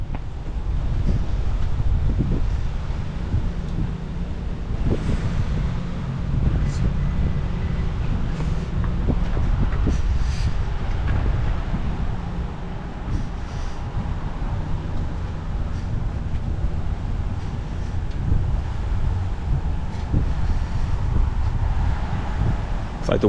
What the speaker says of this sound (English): It's like the wind has picked up a little bit more.